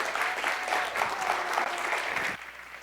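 An audience at a graduate three-minute thesis competition claps steadily for a presenter, a moderately loud, even round of applause that tapers off abruptly near the end.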